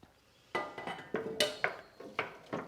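A can of black beans tipped into a pan of onions and garlic, giving a run of sharp metallic clinks and knocks, close and fairly loud, with no talk.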